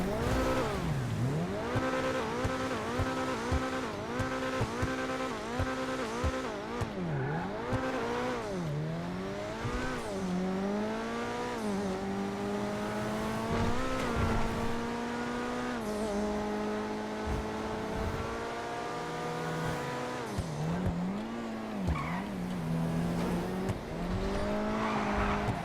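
An Invetero Coquette D5 sports car in GTA Online drives continuously, its engine revving up and down through gear changes with brief tire squeals, loud and alone with no talking.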